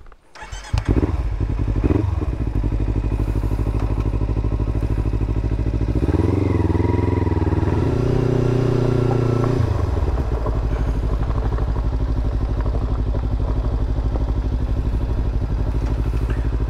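Motorbike engine starts and runs steadily for the whole stretch, loud and close, with a brief rise in revs midway before settling back to a constant throb; a few thuds near the start.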